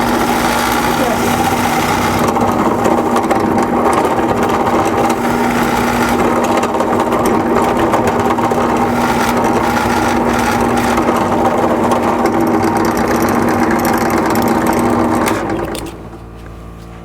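A Forstner bit bores deep into a wooden block, a steady loud motor drone with a constant hum running unbroken for about fifteen seconds before winding down near the end.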